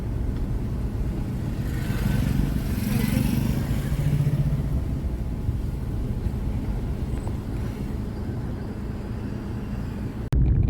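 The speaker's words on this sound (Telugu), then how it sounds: "ట్రాఫిక్ జామ్ అయిపోయింది." Vehicles crawl through a traffic jam on the Kakinada–Rajahmundry road after a lorry overturned, with a continuous low rumble of idling engines and a motorcycle droning nearby, ending in a sudden loud knock.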